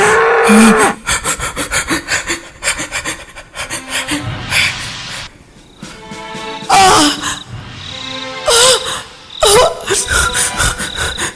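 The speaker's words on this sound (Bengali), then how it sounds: "ষাঁড়!" A bull lets out several loud, drawn-out bellowing calls among rough scraping and rubbing noises, the sounds arriving in uneven bursts with short gaps between them.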